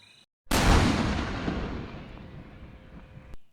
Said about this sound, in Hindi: एक धमाका हुआ और ट्रक के परखच्चे उड़ गए